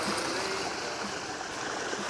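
Water pours in to fill a large koi pond, a steady rushing, splashing stream close by, constant and fairly loud with no talk.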